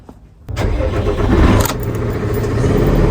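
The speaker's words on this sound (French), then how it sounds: "Là, aujourd'hui, on va tester le nouveau tracteur." A new farm tractor's engine fires up after a click, then settles into a loud, close, steady diesel rumble that surges briefly before holding an even running note.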